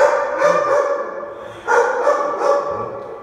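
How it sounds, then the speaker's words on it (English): Dog barking at an animal shelter: repeated sharp, fairly close barks in uneven bursts over a steady background murmur, with no clear talk during the barking. "Look at this dog."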